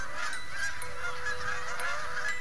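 Geese honk repeatedly, a close flock of loud, overlapping calls against continuous background noise, with no voices.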